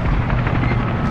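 Loud, close helicopter rotor chop in the video game Call of Duty: Modern Warfare, with a pulsing low thrum, filling the whole short moment without any talking.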